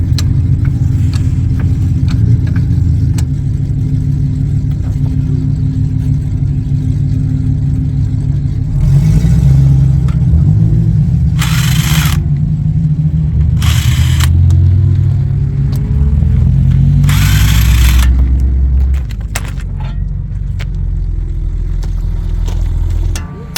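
A stock BMW 340i on a race track gives a loud, sustained engine roar close up, surging through repeated accelerations with brief gear-change breaks and rising revs, then easing off at the end.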